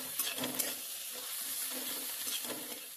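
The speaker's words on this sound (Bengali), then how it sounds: "এবার গ্যাসের ফ্লেমটা বাড়িয়ে দিয়ে সমস্তটাকে মিনিট 2 মতো ভালো করে কষে নিতে হবে।" Spices are sautéed on a high flame with a quiet, steady sizzle and rhythmic scraping strokes of a spatula stirring through the pan, with no talking.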